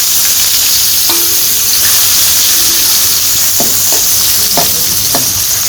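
Chopped onions sizzle and fry in hot oil for a chicken curry, a loud, steady crackling hiss with a few sharp clinks and scrapes of stirring scattered through.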